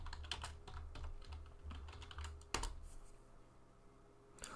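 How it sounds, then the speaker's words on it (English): Typing a command on a computer keyboard in a command-line window, a quick run of close, light key clicks with one louder keystroke near the end, against a low background hum. "what we need to type in is npm outdated."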